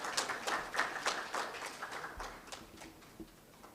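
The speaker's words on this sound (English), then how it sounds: "Please welcome her with a round of applause." Applause from an audience at a health launch event in West Africa, a moderate patter of clapping that gradually thins and fades.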